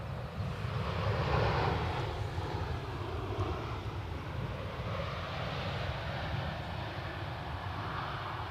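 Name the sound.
EasyJet airliner at Edinburgh Airport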